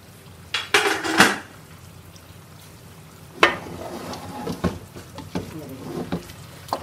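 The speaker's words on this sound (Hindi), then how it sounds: "ये हम इसका ढक्कन खोल लेते हैं" Metal cookware clanks and rattles as the lid of a pot of mutton qorma is lifted and set down, followed by lighter scraping and tapping sounds.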